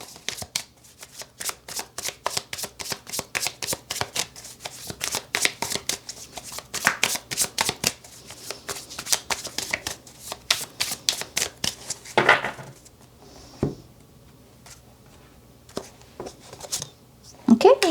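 Tarot cards being shuffled by hand, a long run of quick, crisp riffling flutters at close range, then a pause with a few softer card sounds, while a person talks over the shuffling.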